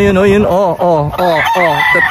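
A rooster, Inad's chicken, crows loudly and close, a series of strained, wavering cries that rise and fall across the whole stretch with only brief breaks between them.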